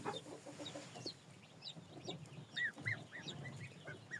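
Soft, high-pitched peeping of young chicks and goslings in a pen, several short chirps scattered over low background noise, fairly close.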